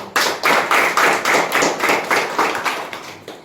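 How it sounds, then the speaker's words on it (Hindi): A youth parliament house claps in unison, loud rhythmic group claps at a steady beat of about three per second, close and without talk. "पूरे सदन से ये निवेदन करती हूँ कि माननीय सदस्य जी का तालियों से आभार प्रकट करें।"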